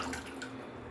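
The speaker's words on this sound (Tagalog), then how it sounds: "lagyan natin siya ng konting tubig" Water running from a tap into a pan while cooking fish paksiw, a brief, soft, steady splash with no talking.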